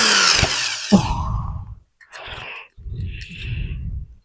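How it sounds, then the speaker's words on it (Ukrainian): A power drill set to screwdriver mode drives a self-tapping screw into wood while building a chicken roost, with a loud whirring opening burst followed by two shorter, quieter runs of the motor. "Беремо саморіз і вкручуємо."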